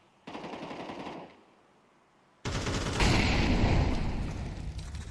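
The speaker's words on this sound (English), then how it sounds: "Well timed incendiary." In a professional Counter-Strike match, rapid automatic gunfire rattles in a burst lasting about a second. After a brief lull, a longer, louder stretch of dense firing and crackling from an incendiary grenade follows.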